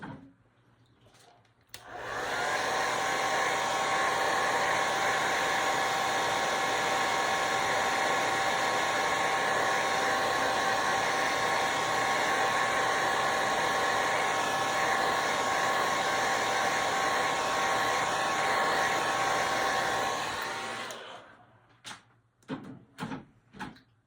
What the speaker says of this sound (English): now I'm gonna dry it